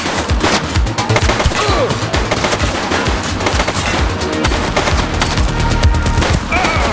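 Loud, dense gunfire in the police game The Precinct, rapid continuous bursts of shots filling the whole stretch with little pause.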